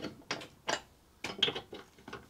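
A hand ratchet works a bolt loose on a Hayter Ranger 53 lawn mower, giving several short bursts of close clicking in an uneven rhythm with brief pauses between strokes.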